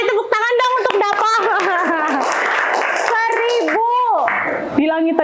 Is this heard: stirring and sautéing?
no